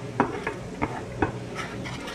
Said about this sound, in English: Now I will add the chopped garlic and keep the flame low because both the butter and the garlic can get burnt really quickly